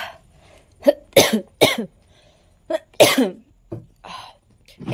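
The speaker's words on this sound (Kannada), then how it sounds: "ನಂಜಿ ಕೆಮ್ಮು ಅಲ್ಲ, ಆದರೂ ಬರ್ತದೆ ಅದು." A person coughs in a run of about half a dozen sharp, close bursts with short gaps, some harsher and sneeze-like, during a bitterly cold spell; no speech accompanies them.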